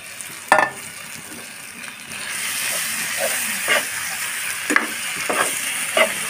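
Sweet pumpkin and garlic are stirred with a ladle in a pan for a bharta dish. A soft, continuous frying sizzle runs under scattered scraping clinks of the ladle against the pan.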